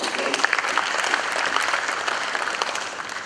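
A room at a Press Club dialogue bursts into dense, steady audience applause that stays close and loud for the whole stretch with no talking over it.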